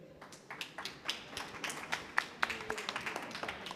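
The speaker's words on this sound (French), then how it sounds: "Je vous demande d'accueillir et d'applaudir le capitaine Jean-Noël Assinger" A small group claps steadily for a few seconds, the applause thin and fairly distant, with a faint voice underneath.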